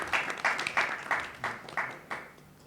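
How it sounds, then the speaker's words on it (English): Audience applause at a tech summit comes as a series of short, evenly spaced bursts of clapping that swell and fade in turn, moderately loud, with no one speaking over it. "A good round of applause"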